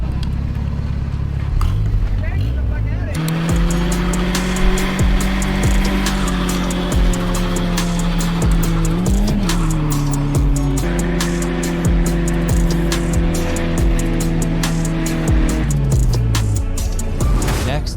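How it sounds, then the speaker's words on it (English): A car doing a burnout: a loud, close engine roars in a sustained rev, its pitch dipping and climbing, with sharp clicks and scuffs over it and muffled voices in the mix. "I'm gonna do a little burnout."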